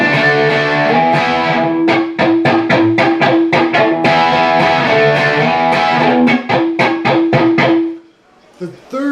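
Distorted electric guitar plays a chugging, muted scratch riff, sharp rhythmic strums in repeating groups of four over sustained chords, loud and close, ending in a brief pause.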